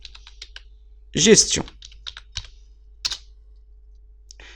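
Keys on a computer keyboard are typed at a desk in short, quick clusters of crisp clicks, close and fairly quiet, with a brief spoken word partway through.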